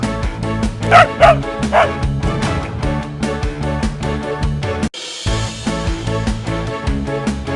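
Several high-pitched puppy yips and barks near the start, heard over a bouncy musical backing in a children's storybook app that plays throughout.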